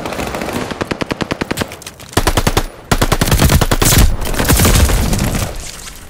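Video game gunfire from Call of Duty: Vanguard: loud rapid bursts of automatic fire, a fast even rattle followed by heavier, denser volleys with low booming shots, continuing without a break.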